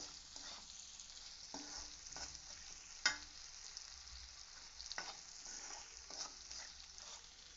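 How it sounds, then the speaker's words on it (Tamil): Citron pieces sauté in sesame oil for a pickle, giving a faint, steady sizzle broken by occasional stirring scrapes and one sharp clink. "ஒரு நார்த்தங்காய்க்கு நல்லெண்ணெய். அதிலே வதங்கட்டும்."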